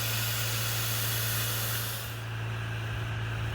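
A budget spray foam rig running a Chinese machine sprays foam in a steady, loud hiss over a low mechanical hum, the hiss cutting off partway through while the hum continues.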